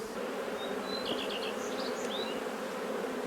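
Honeybees hum in a dense, steady drone around an open beehive, close and continuous, with a few individual bees whining past nearby.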